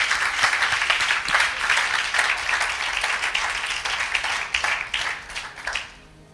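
A church congregation applauds and cheers loudly, with dense sustained clapping and some voices mixed in that fades at the end.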